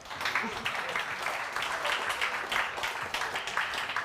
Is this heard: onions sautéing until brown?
no